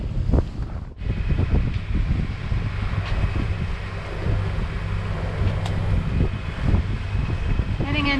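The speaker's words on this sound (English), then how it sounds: "So we've got both engines on" Sailing boat motoring on both engines out at sea, steady low engine drone with wind buffeting the microphone and waves washing around the hull, close and continuous.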